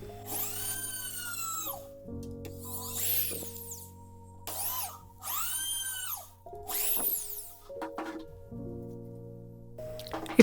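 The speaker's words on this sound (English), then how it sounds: "First I drill using the jig until I get some depth" A power drill bores holes into wood guided by a jig, in repeated whining bursts that rise and fall in pitch with pauses between them, close and moderately loud.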